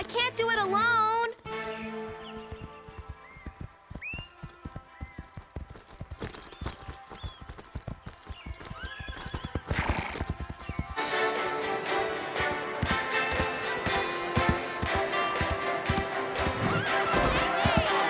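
Hoofbeats of a galloping horse in an animated children's show about horse riding, with loud neighs and whinnies rising over a busy music and effects track while voices talk.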